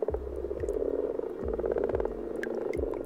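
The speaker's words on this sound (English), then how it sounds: "The breeding of the common frogs is one of spring's explosive events that happens in an instant." Common frogs at a spring breeding pond croak in a dense chorus, repeated low rattling calls rising in a steady rhythm about every half second over a continuous hum of many more frogs, close and loud with no voices.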